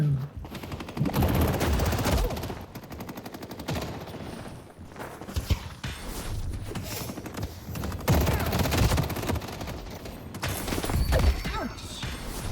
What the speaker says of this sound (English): Firing goo.